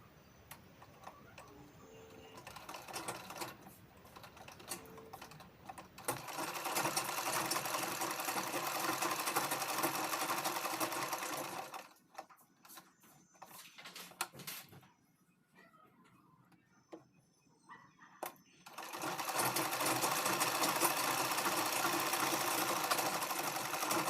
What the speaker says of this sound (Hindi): अब हम जो गले पे निशान लगाए हैं इस पे हम सिलाई कर लेते हैं।